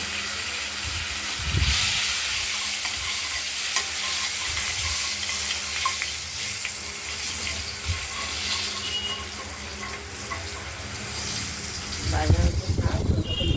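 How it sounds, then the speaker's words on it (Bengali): Steady hissing sizzle of cut potatoes frying in oil runs throughout, with occasional stirring clatter and a louder scraping burst near the end. "এবার আমরা আলু আলু কেটে রাখা আলুগুলো দিয়ে দিলাম। এগুলো একটু ভাজা করে নেব।"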